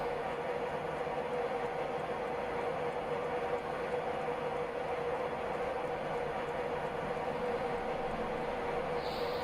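Class 91 HST train in the video game Train Simulator, running between London St. Pancras and Bedford at speed, a faint steady rumble of rolling wheels and traction hum with no speech.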